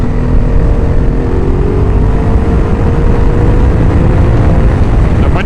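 Ducati Multistrada 1260 motorcycle engine revving toward about 6000 RPM while riding, a loud, steady drone with a slowly rising pitch under constant wind and road noise.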